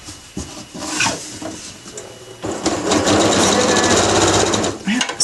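Sewing machine stitching fabric for a drawstring bag, a close loud rapid mechanical whir in short runs that stop and restart, with a person talking between the bursts.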